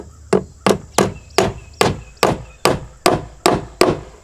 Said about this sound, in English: And then you nail this part into the rafter.